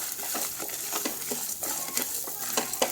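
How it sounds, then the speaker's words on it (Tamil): Finely chopped coconut pieces are stir-fried in a pan for ivy gourd masala fry, a busy rhythm of spoon scrapes and clicks over a close, steady sizzle. "ஒரு மூணு நாலு துண்டு தேங்காய் எடுத்து பொடிசாக கட் பண்ணி வச்சுருக்கேன் அதையும் இதோடு சேர்த்துடுறேன்"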